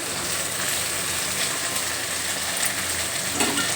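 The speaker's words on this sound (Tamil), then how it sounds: "சின்ன வெங்காயமும் பூண்டையும் சேர்த்துக்கிடுவோம் வதங்கட்டும் மிளகா வத்தலை சேர்த்துக்கிறோம்" Shallots, garlic and dried red chillies sautéing in hot oil produce a loud, close, continuous crackling sizzle like steady rain, with no voices over it.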